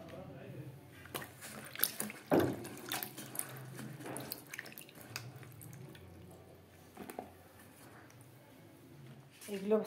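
Chopped vegetables for a spinach and pumpkin dish get washed in water, with intermittent splashes, drips and sloshing close by, while a person talks over parts of it.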